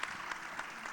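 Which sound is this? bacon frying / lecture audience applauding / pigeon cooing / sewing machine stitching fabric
lecture audience applauding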